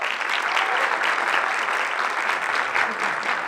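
An audience at a casting talk event claps steadily, producing a full, even wash of applause that holds at a constant level from start to finish with no voices over it.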